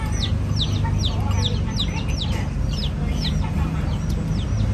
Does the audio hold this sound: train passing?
no